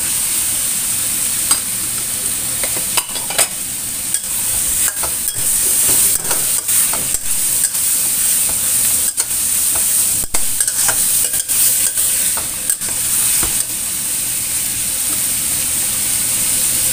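Sausages stir-frying in a pan with garlic and chili, a steady bright sizzle with intermittent scraping and stirring clicks, close and continuous with no talking.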